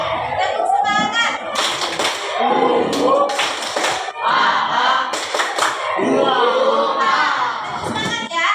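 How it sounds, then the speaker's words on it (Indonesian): Classroom of children doing a rhythmic spirit clap, sharp patterned bursts of hand claps and slaps repeating through the clip, mixed with chanting voices and a teacher speaking. "Oke, tepuk semangat."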